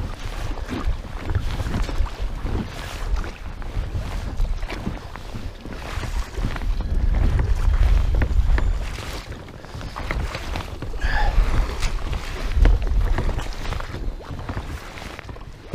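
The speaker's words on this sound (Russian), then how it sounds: "Сильный ветер, блин, волны" Strong wind buffets the microphone over steady rushing water and waves on open water while fishing, a loud continuous roar with gusts rising and falling, no voices.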